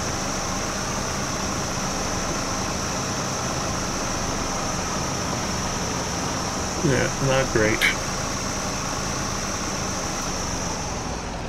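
A tractor engine in the farming video game Farming Simulator 22 runs as a steady, loud mechanical drone throughout, with a brief spoken remark partway through.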